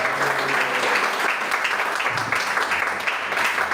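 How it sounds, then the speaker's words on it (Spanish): A church congregation applauding, a dense steady burst of clapping from many hands in a hall, loud and even throughout. "Den un fuerte aplauso al Señor."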